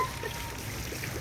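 Water drops freely from the outlet of an unpowered pump at a pumping station, making a faint, steady splashing trickle that continues without a break.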